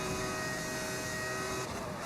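Engine tone of a modded V10 Formula 1 car in the F1 25 racing game, a steady high-pitched whine holding for about two seconds, loud and continuous with no speech.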